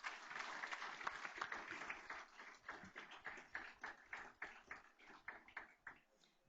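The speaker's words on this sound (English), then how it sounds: "Let's give all 78 of these students a big round of applause." An audience at a school board meeting applauding AP Scholar students, a modest round of clapping that is dense at first and then thins into separate distinct claps, fairly faint and heard without any speech.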